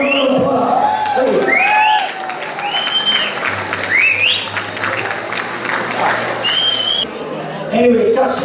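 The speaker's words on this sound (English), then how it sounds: "give yourselves a round of applause" Applause and cheering from a large crowd at a club's annual dinner dance, with steady clapping and whoops throughout, loud and close, and voices shouting over the clapping.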